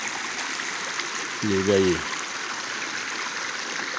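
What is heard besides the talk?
river water flowing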